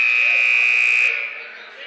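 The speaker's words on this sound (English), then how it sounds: "I wish they could make the buzzer a little less harsh in basketball" Harsh electronic buzzer at a boys' high school basketball game, a loud steady tone held for about a second before cutting off, leaving gym ambience.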